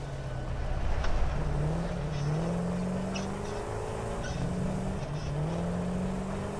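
A truck in the Satisfactory video game drives with a steady engine drone, its pitch rising and falling in gentle sweeps as it moves along, holding at an even loudness throughout.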